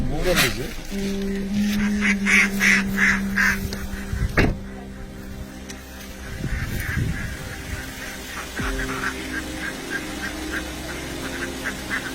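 A flock of farm ducks at a Magh Bihu duck rally quacks repeatedly in rhythmic bursts, mixed with honking, while people talk nearby and the crowd murmurs outdoors.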